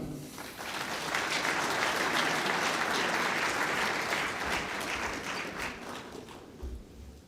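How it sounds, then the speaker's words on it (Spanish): A lecture audience at the FIIC 2012 congress gives architect Joan Busquets dense, sustained applause that swells quickly, holds steady, then thins out toward the end. "Recibamos con un fuerte y cariñoso aplauso al arquitecto Joan Busquet Grau."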